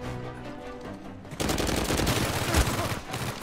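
Dense bursts of gunfire from Uncharted 4 erupt loudly after a quieter opening and continue as a sustained volley of shots to the end.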